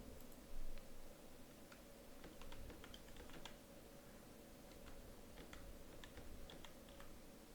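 Computer keyboard keys being typed in scattered clicks and short bursts, fairly quiet and close, while opening a browser to download Android Studio, with low steady room hum underneath and no voices.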